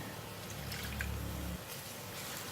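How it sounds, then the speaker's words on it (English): Water is poured into sambal of four-angled beans cooking in a pan, giving a brief low, liquid pouring sound for about a second and a half, then fading to quiet kitchen background. "It's getting dry again, and I'm going to add some more water."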